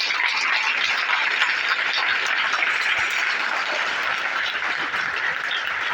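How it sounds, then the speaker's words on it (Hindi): A large seminar audience claps in a dense, continuous roar of applause that stays loud and even for about six seconds, with no distinct individual claps. "और तालियां बजाना अच्छे से बजाओ यार"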